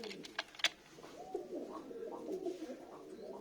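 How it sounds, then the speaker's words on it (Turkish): Karaçil pigeons coo softly in a coop, a low rolling murmur running steadily under a few sharp chirps and scattered faint sounds. "Karaçiller şimdi şu arsada uçurduğum karaçillerden arkadaşlar bunlar"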